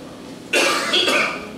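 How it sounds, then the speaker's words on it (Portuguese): A man coughs twice in quick succession, close and loud, with a rough, throaty burst each time. "E a tosse parece que ela aumenta mais"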